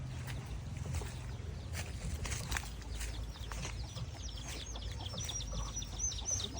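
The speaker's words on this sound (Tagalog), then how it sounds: "Manok." A chicken clucks repeatedly nearby in short rhythmic bursts over a low steady rumble of background noise.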